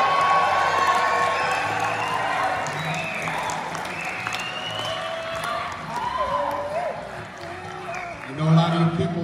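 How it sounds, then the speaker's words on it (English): Audience cheers, whoops and claps for a band at a live music event, a steady roar of crowd noise throughout that swells louder near the end, with some voices mixed in. "Can you cheer them on?"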